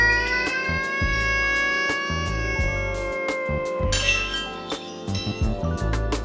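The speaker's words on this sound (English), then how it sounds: "This metallic, smeared out texture specifically is a time stretch artifact" A metallic, smeared time-stretch artifact wobbles over a pulsing, bell-like tone, with glassy clinks and a shimmering, warbling texture, loud and alone.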